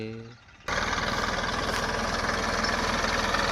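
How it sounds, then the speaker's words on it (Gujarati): After a short quieter stretch, a farm tractor engine chugs loudly and steadily nearby during chickpea harvesting, with a rapid, even diesel knock. "ટ્રેક્ટર ચાલુ છે"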